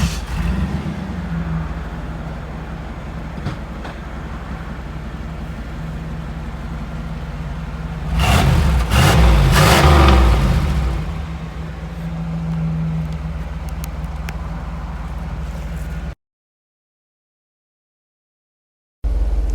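A 1991 Chevrolet Camaro RS engine idles with a steady low rumble, swells into a loud rev around the middle, settles back to idle, then cuts to silence before briefly resuming.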